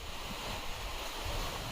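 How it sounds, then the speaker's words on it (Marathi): Strong wind rushes past the microphone in a constant, rumbling roar, with no voices heard and no break in the blowing. "वा एकदम डेंजर वारा सुटलाय"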